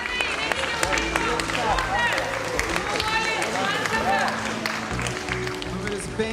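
Stormy applause fills the hall at the NABBA Lithuanian Championship 2025 men's open bodybuilding contest, dense and steady throughout, with crowd noise and an announcer's voice over the top.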